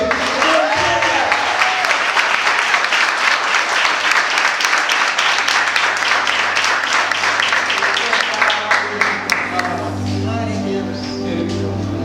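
Loud, sustained applause from a large crowd, steady clapping filling the space before easing off slightly toward the end.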